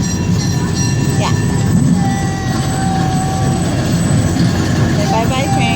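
A small zoo ride train runs along its rails with a steady rolling rumble and occasional squealing wheels, close and fairly loud, while people talk over it.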